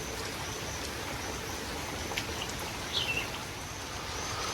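Rain with large drops easing off after a heavy downpour, falling as a steady, fairly quiet hiss with a few brief louder spatters and no talk.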